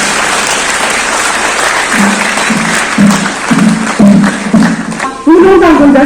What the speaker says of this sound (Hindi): तालियां रुकनी ही चाहिए।